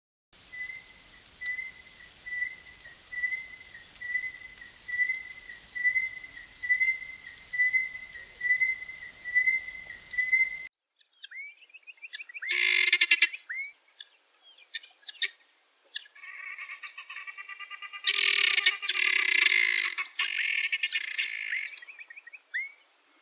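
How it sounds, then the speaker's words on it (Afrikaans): Helmeted guineafowl call with a run of evenly spaced, repeated piping notes, followed after a pause by louder, harsh, grating bursts of cackling. "Tarentaal."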